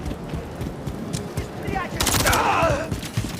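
Enemy gunfire in the video game Call of Duty Modern Warfare 3 rattles in rapid bursts, growing into a loud, dense fusillade partway through, with game sounds and voices mixed underneath.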